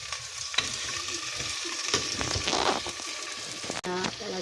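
Onions fry and sizzle in a claypot while being stirred, scraping and clattering utensil sounds over a constant hiss, with a brief voice in the background.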